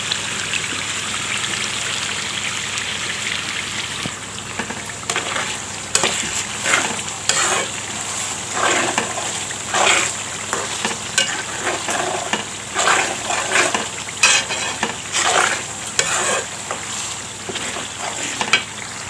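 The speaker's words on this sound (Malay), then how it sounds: "Kita nak bagi bawang kita garing sikit lagi" Onions frying in oil until crispy, with tamarind slices added, for a homemade sambal paste: a steady close sizzle with repeated stirring scrapes and bursts throughout, no talking.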